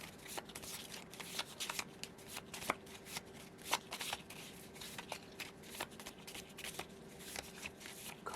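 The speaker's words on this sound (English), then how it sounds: "I shuffle my cards until cards fall out" Tarot cards being shuffled by hand, a steady run of close, crisp riffling flutters and soft slaps repeating through the whole stretch with no talking.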